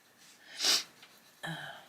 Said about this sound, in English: Still sniffing, it's really annoying me.